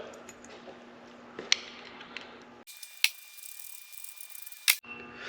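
Ratchet clicks from tightening bracket hardware on a Jeep TJ Rough Country air intake install: a few sharp, close clicks spaced over several seconds against a low workshop hum, with no talk.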